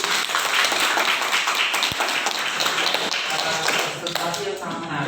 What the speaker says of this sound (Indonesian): Mungkin kita kasih aplaus dulu untuk